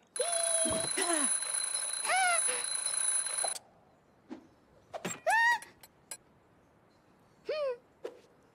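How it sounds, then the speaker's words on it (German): An alarm clock in the game Lost in Play rings loudly and steadily for a few seconds, then stops, followed by short cartoonish squeaks and chirps. "haben wir den Wecker und können unseren Bruder wecken"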